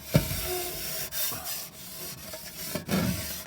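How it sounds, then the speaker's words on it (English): A dustpan scraped across ice in uneven rubbing strokes, close and fairly loud, with a few sharper knocks along the way. "dustpans make a really good scraper"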